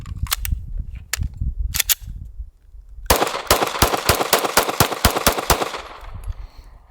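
A Sig Sauer P320 pistol fires a string of rounds, sharp loud cracks in quick succession after a few scattered earlier shots, with a rapid volley in the latter half.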